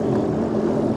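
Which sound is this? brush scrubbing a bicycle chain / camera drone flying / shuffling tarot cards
camera drone flying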